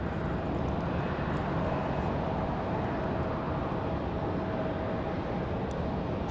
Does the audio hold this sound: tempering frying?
no